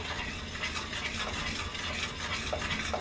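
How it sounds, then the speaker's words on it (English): A spoon stirs sweet heat brittle in a pan on a stovetop, making a soft, steady scraping and faint sizzle that runs continuously at a low level. "keep stirring. You do not want to stop stirring this because it will burn on you."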